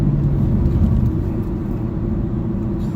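A Chevy SS drives along a main road, its engine a steady low rumble from inside the cabin under constant road noise, with no sharp surge.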